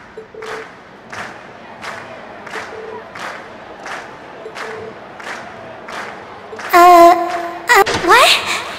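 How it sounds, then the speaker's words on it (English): Video game crowd in Trails of Cold Steel: rhythmic, evenly spaced chanting or clapping beats repeat about twice a second. Then a louder burst of cheering and thuds erupts near the end. "we've heard your cheers loud and clear"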